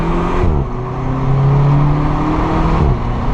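A Volkswagen Polo GTI (6C) revs hard from inside the cabin, its engine note climbing and holding in a loud, droning rise before dropping off near the end, with faint exhaust crackle mixed in.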